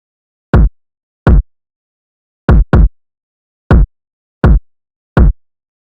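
Kick drum from a beat played alone: seven short, punchy, deep thumps, evenly spaced apart from one quick double hit, each with a fast decay and silence between.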